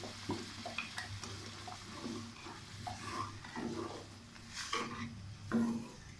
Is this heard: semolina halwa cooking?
yes